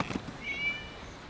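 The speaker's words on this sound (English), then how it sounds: "It was just a cat." A single cat meows in the video game Genshin Impact, a short, thin cry standing faintly above a soft background ambience.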